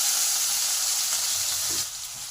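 Chopped tomato hits hot oil in a pan with white sesame seeds, a loud, steady close sizzle that eases slightly near the end, with no voices.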